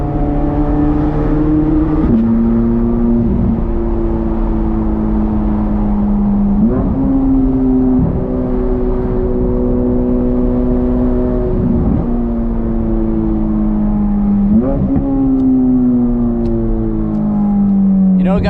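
Chevrolet Corvette C8 Z06 engine revving hard through repeated upshifts and a downshift, loud and close, with rising tones stepping up in a steady rhythm under occasional talk.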